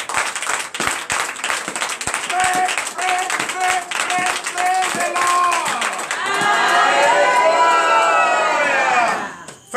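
A church congregation at a Friday night deliverance and prophecy service in Benin claps in a steady rhythm with shouts, then breaks into loud, sustained ululating cheers that ring over the clapping before fading.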